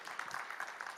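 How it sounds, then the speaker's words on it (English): Audience applause at the European Humanities University 30th anniversary conference, steady clapping from a seated crowd filling the moment evenly, moderately loud and continuous without talk over it. "make a round of applause to Mr."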